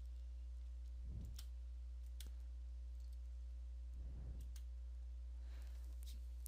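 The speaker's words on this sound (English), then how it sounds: "I'm going to do a capital Y here, and then I'm going to hit enter on the keyboard" A few soft, scattered keystrokes on a computer keyboard, spaced well apart. They are faint against a constant low electrical hum, with no talking.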